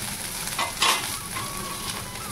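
Flattened rice (chira) frying and being stirred in a pan with sugar and almonds, a steady close sizzle with a few brief scraping stirs and no talk.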